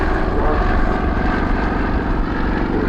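A Bristol 171 Sycamore helicopter at Farnborough International Airshow 2018 makes a loud, steady rotor and engine drone with a low rhythmic beat, continuous and close, without voices.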